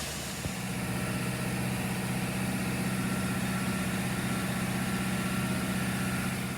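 New crate engine running in a 2013 Chevrolet Silverado, a steady, even hum held at raised RPM after one brief knock at the start, with no talk.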